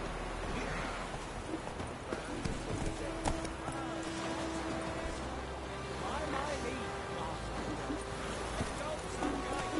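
Roach the horse galloping in The Witcher 3, a steady clip-clop of hooves at a quick rhythm throughout, mixed with game ambience and a voice talking over it.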